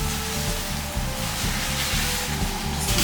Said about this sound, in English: Then add another couple of ladles of broth. Moving things around the pan.